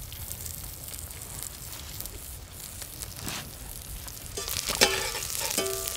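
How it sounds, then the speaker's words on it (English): Rock samphire and Alexanders herbs stir-fried in a pan, giving a steady close sizzle and crackle that swells louder toward the end as the food is stirred. "we're going to stir fry for flavour as well some of the herbs, which is the rock samphire"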